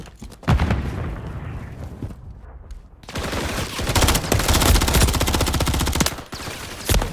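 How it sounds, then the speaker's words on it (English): Sustained bursts of automatic gunfire and shots from a 4v4 Call of Duty esports match, dense and loud with rapid repeated cracks and booms, briefly dropping to a quieter pause before the firing resumes. "we've got a lot of gunfire going on there"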